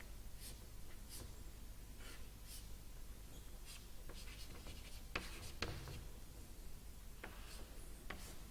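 Marker or chalk strokes on a board during an organometallic chemistry lecture, a steady run of short scratchy writing strokes with pauses, fairly faint and alone with no voice.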